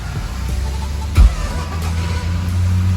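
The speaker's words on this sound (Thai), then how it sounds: "เครื่องยนต์ก็จะสตาร์ทติดนะครับ" A Toyota Revo Prerunner pickup truck's engine turns over with a brief thump after a push-button start and settles into a steady, close idle hum.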